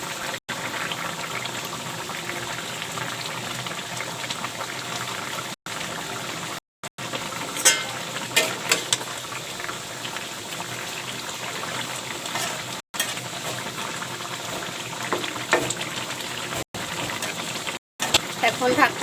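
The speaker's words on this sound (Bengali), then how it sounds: "আমার তরকারিটা ফুটে এসেছে" A pan of fish curry with pre-fried fish boils steadily on a gas stove, with a continuous bubbling and simmering hiss, close and moderately loud, broken by a few brief dropouts.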